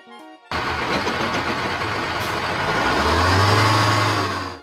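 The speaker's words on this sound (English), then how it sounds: "What sound does a bus make?" A bus engine turns over and starts, then settles into a steady, loud running rumble that builds slightly toward the end, with no talking.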